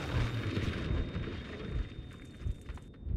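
A grenade-rifle blast in the Battlefield 5 beta lands as a loud, rumbling explosion that rolls on for a few seconds, followed by smaller crackling bursts.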